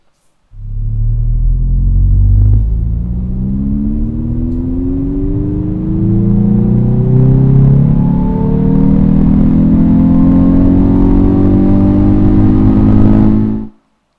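Synthesized car engine sound from a Hyundai NVH simulator in N mode, a loud sustained rumbling engine note that climbs steadily in pitch through several rising sweeps, heard alone for about thirteen seconds before cutting off abruptly.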